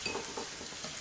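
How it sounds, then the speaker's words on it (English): Spices being whisked into a wet mix for a mushroom gravy: quiet, rhythmic scraping and swishing strokes repeating about every fifth of a second over a faint hiss, close, no talk. "So our spices go into the wet mix, and we'll just give that a mix up"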